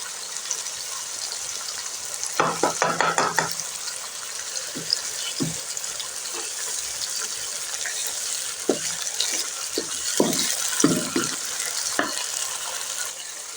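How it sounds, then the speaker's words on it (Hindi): Garlic-ginger paste sizzles and spatters in a hot pan, with scattered scraping stirs and clinks over a steady frying hiss. "लहसुन अदरक का पेस्ट ऐड करेंगे"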